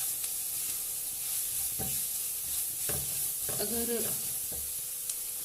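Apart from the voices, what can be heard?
chicken with spices cooking in a pan for samosa filling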